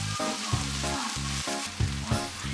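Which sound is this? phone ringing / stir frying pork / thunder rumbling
stir frying pork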